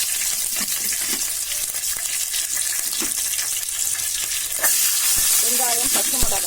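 Onions and green chillies sauté in a pan with garlic and dried red chillies for radish sambar, giving a steady close sizzle and crackle with a few spoon scrapes throughout.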